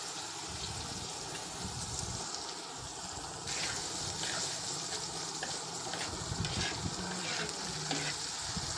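Okra (bhindi) fries with golden onions in a pan, giving a steady moderate sizzle. Scraping stirs cut in repeatedly through the second half, with no talk.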